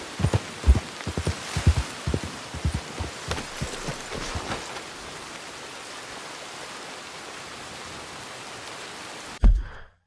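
Steady rain in the video game Red Dead Redemption 2 makes an even, hissing wash throughout, with soft thumps and footfall-like knocks early on and a sharp thud just before it cuts off.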